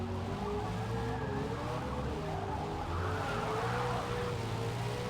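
A McLaren Sabre race car in Forza Motorsport at Mid-Ohio drives with a steady engine drone and layered tire squeal, continuous and moderately quiet throughout, with no talk.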